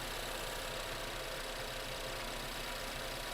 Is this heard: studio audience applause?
no